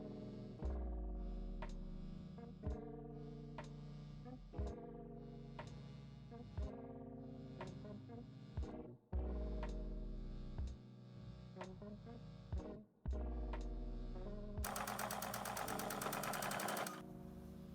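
A home sewing machine stitches fabric in repeated bursts, each run of whirring needle motion starting with a sharp thump and stopping, followed by a brief harsher buzzing at the end.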